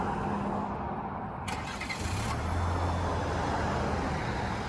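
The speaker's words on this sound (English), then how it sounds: "the all-new redesigned Colorado LT does have remote start over here" A 2023 Chevrolet Colorado LT crew cab 4x4 starts up by remote start, a brief cranking burst followed by a low, steady idle that settles in and holds, with no talking.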